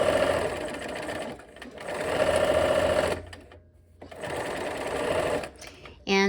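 Sewing machine stitching quilt block strips together, running in steady humming bursts with short pauses between seams, close and clear, with a person talking over parts of it.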